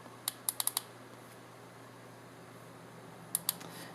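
Buttons clicked on an Element Gear AXON remote switch, giving crisp, faint clicks in a quick cluster of four near the start and a pair near the end, over a low steady hum.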